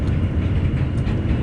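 Inside a New York subway F express train with R160 cars running on the IND Culver Line, a loud, steady rumble and roar of the moving car continues throughout.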